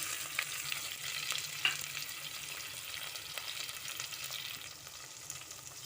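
Onions frying in a pan of oil for veg pulao, a steady close sizzle with faint stirring scrapes and crackles running throughout.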